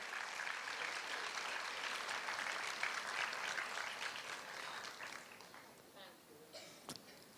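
Applause from a conference audience at an awards ceremony, a steady broadband wash of many hands clapping that fades gradually toward the end, with a voice and a sharp knock near the close.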